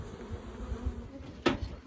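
Honey bees buzzing around a beehive, a close, continuous droning hum with a brief louder rustle or bump near the end.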